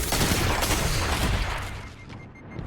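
A loud burst of rapid gunfire from the online shooter Crucible sounds close up, then thins out and fades over a couple of seconds.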